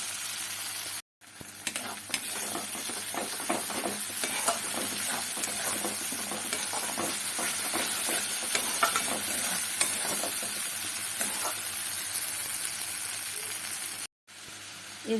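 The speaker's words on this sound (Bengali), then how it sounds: "কম তেলে মশলাটাকে আস্তে আস্তে করে কষিয়ে দেবো।" Spice paste frying slowly in a little oil over a low gas flame for a capsicum dish, giving a soft continuous sizzle and hiss with light stirring scrapes, fairly quiet and steady, briefly cutting out twice.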